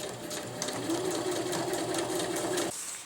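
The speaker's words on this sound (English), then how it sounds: "we're now sewing right down the middle of the tarp" A sewing machine stitches down the middle of a winter tarp, running at a steady, even whir for a few seconds close up, then stopping abruptly.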